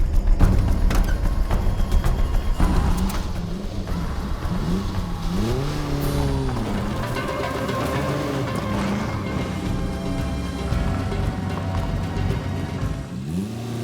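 An old car's engine revs up hard and then settles into a sustained, rising drone as it pulls away, loud and close, with no speech over it.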